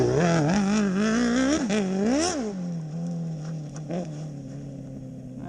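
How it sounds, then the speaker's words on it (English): A Honda CBR race motorcycle, about 180 kg and 100 horsepower, revs hard during a practice start, its engine rising and falling sharply several times before settling to a steadier, lower drone. "So this is Paulie. Practice starting. The CBR. 180 kilo, 100 horsepower."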